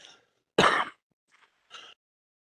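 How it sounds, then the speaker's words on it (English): A man with allergies gives a sharp single cough followed by a softer throat-clearing sound, close and alone in a quiet room. "I've got allergies and so I'm coughing here."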